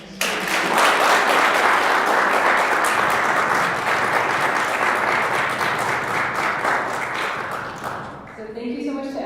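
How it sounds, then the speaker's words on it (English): An audience claps in steady, dense applause after a senior capstone presentation, loud and sustained for about eight seconds before tapering off, with a voice starting to speak at the end. "I'd love to give you one last round of applause."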